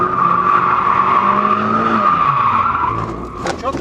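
A car drifts at full throttle, its engine roaring loudly and close as the tires squeal in a sustained skid for several seconds, then fade and break up near the end.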